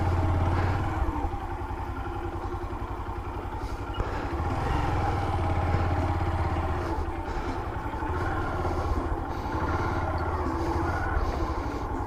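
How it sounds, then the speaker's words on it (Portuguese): A motorcycle engine runs steadily and fairly loudly up close while the bike is parked at Cajueiro da Praia on the Piauí coast, with a low, continuous rumble and no speech. "Botar a moto bem aqui, ligeiro."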